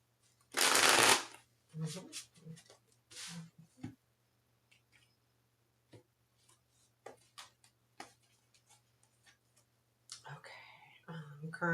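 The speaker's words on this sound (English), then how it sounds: "One more shuffle." Tarot cards are shuffled in a quiet office, with a loud riffle at the start followed by softer shuffles and card taps. Faint speech can be heard between them.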